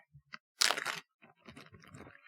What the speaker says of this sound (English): That is the sound of Nick opening a plastic bag with one hand